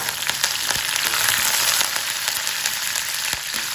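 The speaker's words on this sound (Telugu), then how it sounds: "ఇప్పుడే కరివేపాకు కూడా వేసేయాలి" Curry leaves crackle and sizzle in hot oil with chana dal and other tempering ingredients for a bitter gourd (kakarakaya) podi, a loud, steady fry with sharp pops scattered throughout.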